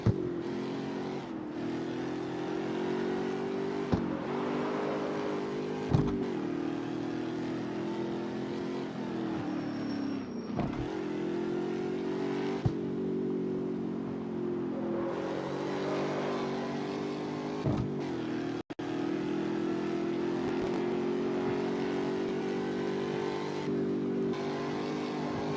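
A car engine in a mobile racing video game drones and revs steadily and loudly, with repeated brief dips and surges as the gears shift, continuous and close with no talking.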